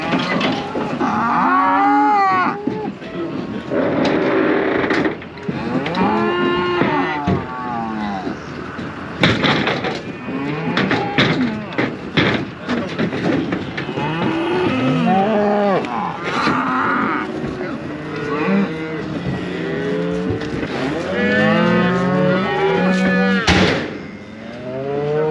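Cows and calves at an outdoor show moo loudly and repeatedly, long overlapping low calls close by and farther off, with occasional knocks and bangs in between.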